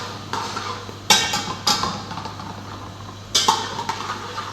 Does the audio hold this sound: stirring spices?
yes